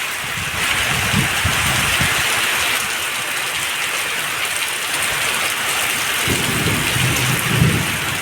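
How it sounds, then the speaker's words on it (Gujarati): Heavy rain pours down in a thunderstorm with wind, a dense, steady roar of downpour with deep rumbling thunder swelling near the start and again toward the end, with no voices. "ગાજ વીજ ને પવન ને બધું ભેગું."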